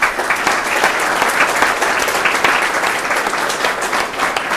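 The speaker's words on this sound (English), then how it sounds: "I'd like them to stand up and receive some applause" An audience at a town hall meeting on opiates breaks into sustained, dense applause, a loud, steady wash of many hands clapping from start to finish.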